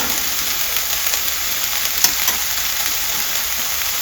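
Spices, including turmeric, garam masala and chili powder, and vegetables sizzle and crackle steadily in a hot pan, with a brief scrape of stirring partway through.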